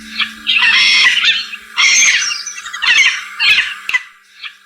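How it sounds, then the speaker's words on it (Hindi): A flock of birds shrieks loudly in a forest story scene, with several harsh, wailing squawks coming in close, loud bursts and short gaps between them, heard alone without talk. "पक्षियों ने जोर जोर से शोर मचाना शुरू कर दिया।"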